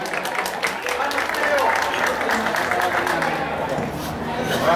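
Crowd applause at the inauguration of a community house, a dense burst of many people clapping at close range with chatter and shouts mixed through, holding strong for several seconds.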